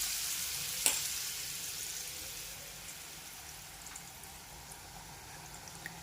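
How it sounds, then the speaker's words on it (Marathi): Kolhapuri kat vada batter balls deep frying in hot oil in a kadhai, a steady soft sizzle and crackle throughout with a brief sharper pop near the start, moderately quiet and without talk. "तेलावर ते सोडून घ्यायचंय आपल्याला."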